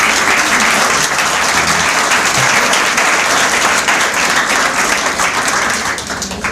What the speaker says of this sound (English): he deserves a round of applause too